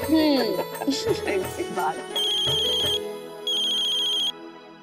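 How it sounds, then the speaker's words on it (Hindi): A telephone ringtone plays in a household drama scene: a melodic phone tune, then two sustained bright electronic ringing bursts, heard near and clear after a moment of other sound. "अक्षरा का फोन"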